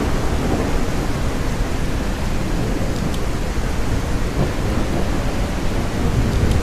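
A storm roars as a dense, unbroken wash of rain and low rumbling thunder, loud and steady throughout with no voices.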